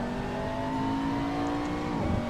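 A McLaren MP4 GT3 race car in Assetto Corsa hums with a steady engine drone that holds an even pitch before dipping briefly near the end, moderately loud and with no voices over it.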